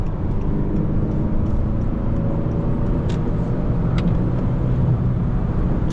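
A 2.0T Honda Accord accelerates hard in sport mode, heard from inside the cabin as a loud, steady engine and road roar that holds level throughout.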